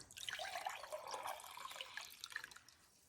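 Warm water, around 110 degrees, pours in a quiet, continuous splashing stream into a bowl for bread dough, tapering off near the end.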